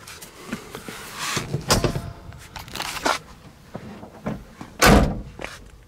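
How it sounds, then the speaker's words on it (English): The door of a 1973 Camaro Z28 classic car being shut, several solid thuds and latch clunks at close range, the heaviest slam near the end, with light handling noise between and no talk. "Just kind of listen to how that door shuts."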